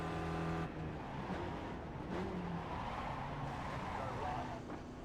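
A Spec Racer Ford race car in the iRacing sim at Lime Rock Park gives a steady, moderately loud engine drone with slight shifts in pitch, continuous throughout and without talk.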